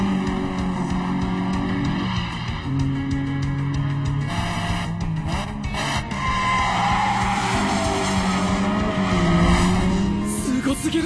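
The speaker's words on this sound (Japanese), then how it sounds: "すっげー、今にも当たりそうなスーパーツインドリフト。" Two cars drift side by side in an anime street race, tires squealing and skidding loudly and continuously over sustained engine roar, with no talking.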